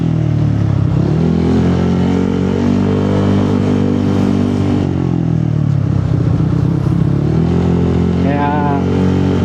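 A four-year-old Honda PCX160 scooter engine that tends to stall in traffic runs loud and close, its drone rising and falling as it revs and settles, with a voice faintly underneath.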